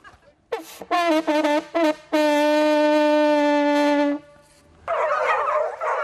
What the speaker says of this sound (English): When he's saddled, I sound the hunting horn.